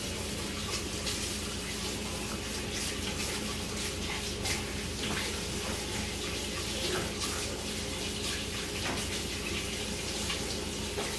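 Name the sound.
washing hands under running tap water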